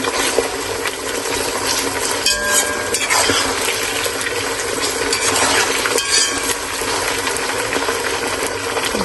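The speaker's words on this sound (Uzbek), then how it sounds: "Endi qovurib olamiz 1-2." Meat and onions for plov fry and get stirred in a pot. A steady, fairly loud sizzling hiss runs throughout, with occasional scraping and clinking from the stirring.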